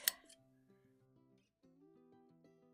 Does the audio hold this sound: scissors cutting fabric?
yes